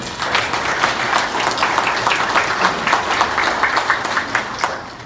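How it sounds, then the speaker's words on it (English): An audience at a company president's report gives the board of directors a loud, full round of applause, many hands clapping densely and evenly throughout. "Let's give your board of directors a round of applause"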